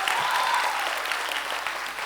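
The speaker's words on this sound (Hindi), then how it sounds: "तालियां बजाइए अपने लिए।" Loud, close audience applause at a quiz event in Jaipur, a thick continuous roar of clapping hands that holds steady for two seconds with a faint tone running beneath it.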